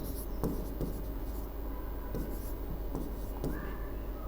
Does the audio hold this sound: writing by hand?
yes